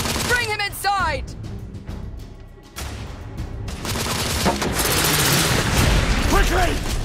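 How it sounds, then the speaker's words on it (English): Gunfire rattles in the shooter game The Order: 1886 on PlayStation 5, with bursts of automatic fire, a few heavy shots, and voices shouting amid the battle. "Lay down suppressive fire!"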